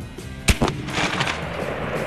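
An AEA Zeus .72 caliber air rifle fires one loud, sharp report outdoors at a 50-yard steel and lumber test, followed by a brief echo and faint background noise.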